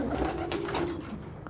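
A meat pigeon gives a short, soft run of low, throaty coos, close by and clear against quiet background noise, with no voices.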